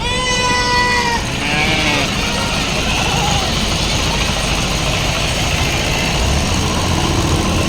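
Goats bleat loudly several times over a steady engine rumble and busy crowd chatter at a large open goat and sheep market in Maharashtra.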